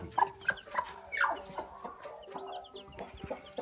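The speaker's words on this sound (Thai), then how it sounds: "นี่เหรอลูกไก่" Hens cluck on a farm in a short series of close, irregular clucks and soft calls, with quiet farmyard background beneath them.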